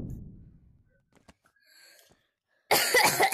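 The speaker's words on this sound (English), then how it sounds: "why are you coughing up a lung?" A person coughs harshly and loudly near the end after a quiet stretch of faint breathing and small sounds, the burst close and raspy.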